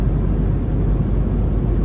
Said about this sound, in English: on board the plane, China Eastern Airlines, bound for Istanbul, and we are already on our 10th hour flight